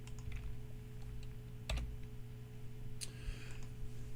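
Computer keyboard typing, irregular quiet key taps with a few louder clacks, close and faint over a low steady hum, with no talking.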